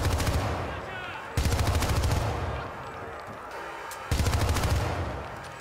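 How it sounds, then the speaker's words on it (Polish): Bursts of rapid gunfire from a Gauss gun in the video game Syndicate: loud, dense volleys that cut off abruptly and resume after a pause, with no talk over them. "Ten Gauss, który tak przeskakuje bardzo sprawnie między celami, jest fantastyczny"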